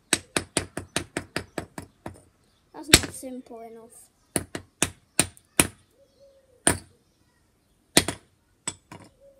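Hammer blows against a brick: a rapid series of sharp, loud impacts, then a talking voice, followed by more spaced single strikes near the mic.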